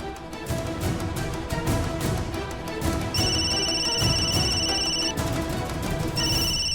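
A telephone rings with a bright electronic trill, two bursts separated by a short pause, over a busy background of music and ambient noise.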